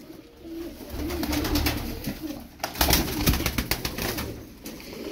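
Tumbler pigeons coo in a steady stream of soft, low, throaty calls. The birds sound close, and faint rustling runs under the cooing throughout.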